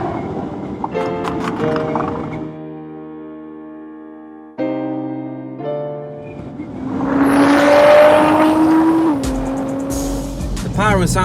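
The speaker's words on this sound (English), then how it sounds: "The car pops and bangs, screaming away, sounding like a full-on Formula 1 car." A Nissan GT-R, nicknamed Godzilla, revs hard with engine notes rising and falling, punctuated by pops and bangs, then screams away in a long climbing tone through gear changes, loud and close with a brief quiet gap midway.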